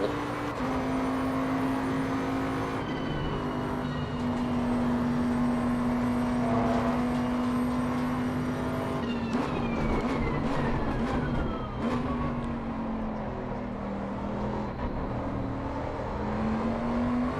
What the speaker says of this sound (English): cranked the engine up to quali mode